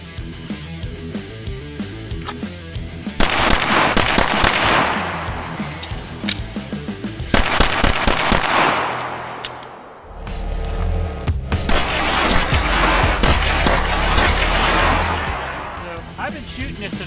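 VP9 pistol fired at a steel target about seven yards away, loud sharp shots in rapid bursts with a harsh, roaring outdoor background.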